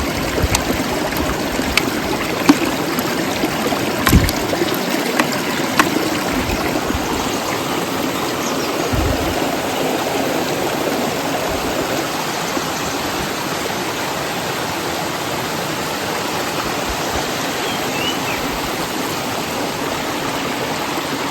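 Water rushes and gurgles steadily where two rivers meet in the Konkan, a continuous broad hiss that stays even and fairly close the whole time.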